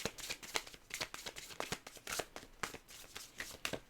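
Tarot cards are shuffled close by in a quiet room, making soft, rapid riffling and papery crinkling in a brisk, uneven rhythm for a few seconds, with no talking.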